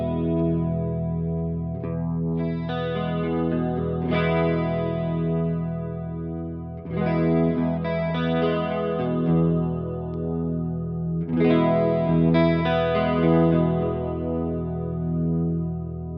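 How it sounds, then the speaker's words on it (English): Guitar played through a Fractal unit's dimension chorus that emulates the Boss Dimension pedal: sustained, shimmering chords with a wide, lush modulated sheen, strummed in three swells, steady and loud with no talking. "which will emulate the dimension chorus brought about by Boss"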